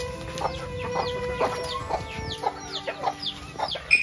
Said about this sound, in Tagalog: Lawagan sa akong manok.